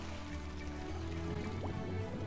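Watery dripping and liquid filling sounds from the animated film Elemental play over a low, steady background hum, moderately quiet and continuous with no talk.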